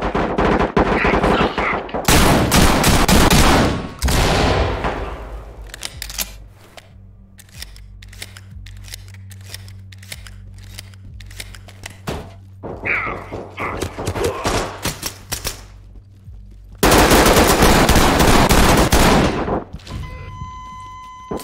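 Loud shotgun blasts fired at a door lock in the tactical shooter Ready Or Not, coming as several separate booming shots with bursts of rapid clatter and mechanical clicking between them.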